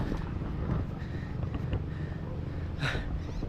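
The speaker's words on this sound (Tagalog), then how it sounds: "Grabe, hinihingal ako." Heavy, ragged panting from someone walking a rural uphill path in the Philippine countryside while herding goats, close to the microphone with wind buffeting and outdoor rustle throughout.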